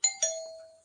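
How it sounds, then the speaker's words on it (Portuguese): A doorbell ringing with two quick bright chimes that ring out and fade, heard alone in a quiet room. "até a campainha tá tocando aí"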